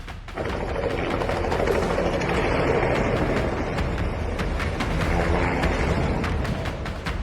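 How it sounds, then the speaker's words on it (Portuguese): A helicopter loses control and crashes between houses, heard as a rough mechanical clattering and banging with repeated sharp impacts over a steady loud rumble, moderately close and without speech. "Na gravação a seguir, o helicóptero perde o controle e colide entre as casas."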